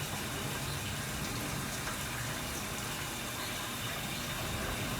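Cold water pours into a machine while unwinterizing an RV, a steady, dense gushing rush that holds at an even level throughout without any break.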